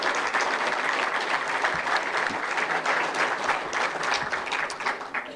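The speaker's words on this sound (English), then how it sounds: "Would you give all of our student athletes a round of applause?" Sustained applause from an audience honoring student athletes at a college men's basketball coach's introductory press conference on campus, steady and dense for several seconds before easing slightly at the end.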